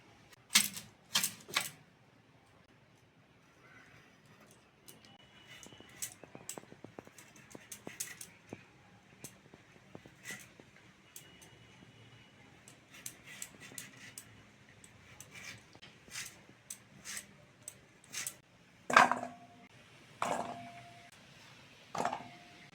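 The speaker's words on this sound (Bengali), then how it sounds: "চলো ওল আর চিংড়িটা কেটে নিই" Elephant foot yam and prawns cut with a knife: a series of sharp, uneven chops and taps against a board spread over about twenty seconds, close and dry, with no talking.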